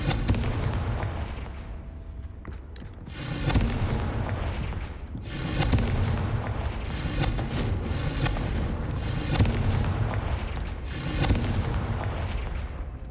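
Repeated Confringo fire-spell blasts in the Hogwarts Legacy video game, a series of heavy booming explosions roughly every two seconds, each with a crackling rumble tail, loud and close with no talking.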